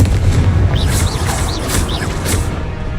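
A Confringo fire spell in Hogwarts Legacy bursts in several quick blasts with rising whooshes, each one punching over a constant low rumble.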